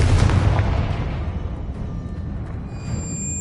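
A Confringo fire spell in Hogwarts Legacy goes off as a loud, deep explosive boom at the start, then fades into a rumbling, crackling tail.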